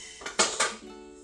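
A mixing bowl for homemade bread is handled with a few quick clattering knocks and scrapes, closely recorded, with a short light ring trailing after them.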